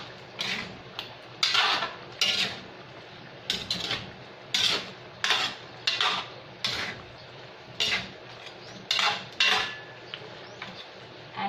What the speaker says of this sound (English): So we should mix it again or stir.